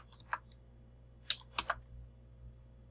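A few scattered keystrokes click on a computer keyboard, quiet and close. They come in an uneven cluster of isolated taps with pauses between them, over a faint background hum.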